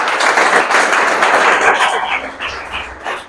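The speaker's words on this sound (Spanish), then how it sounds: "Dame un aplauso." A church congregation claps in a dense, steady burst of applause that fades slightly toward the end.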